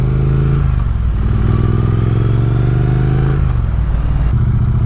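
A 2024 Triumph Speed Twin 900 motorcycle engine runs close up, a loud, steady low rumble with shifting throttle tones and mechanical clatter.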